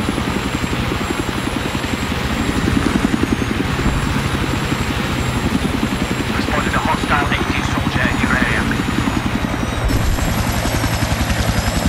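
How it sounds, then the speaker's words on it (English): Enemy helicopter in the video game Battlefield 3 on the Damavand map, a steady loud rotor chop and engine drone running throughout with faint other game noise on top. "Enemy helicopter spotted, over."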